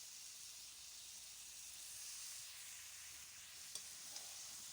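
Washed goat mutton pieces go into a hot wok for a thin potato curry, giving a faint, steady hissing sizzle with a couple of soft clicks near the end.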